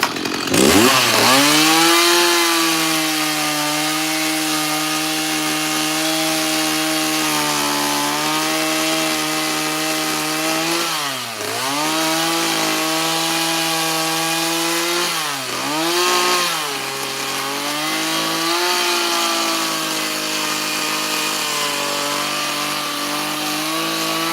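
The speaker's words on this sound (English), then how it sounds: "With that 20-inch bar on the chainsaw," A chainsaw with a 20-inch bar runs loudly and continuously in the snow, its engine pitch dipping and rising as it bogs down cutting through wood, then recovering.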